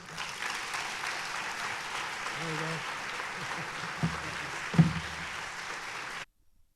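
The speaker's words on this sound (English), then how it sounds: "please, a round of applause for Philip Atiba Goff." Applause from a lecture audience at John Jay College of Criminal Justice, steady moderate clapping that holds throughout, with a few louder thumps and brief low sounds near the end before it cuts off.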